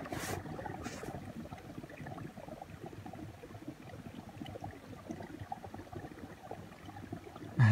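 A brook runs beneath snow and stones on a homestead property, giving a soft, steady rushing wash that stays faint and even throughout, with a brief louder bump at the very end.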